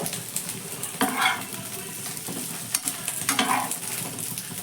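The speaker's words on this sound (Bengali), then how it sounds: "এবার ভালো করে মিশিয়ে নেব" A spiced snack mixture is stirred and mixed in a pan with a spoon. Irregular scrapes and clatters of the utensil against the metal rise over a soft sizzle, and no one speaks.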